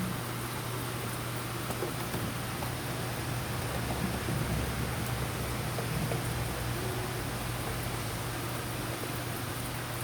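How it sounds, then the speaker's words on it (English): Steady rain falls outdoors on a rainy day, a dense continuous hiss holding even and fairly faint for the whole stretch, with a low hum running underneath and no talking. "It's raining."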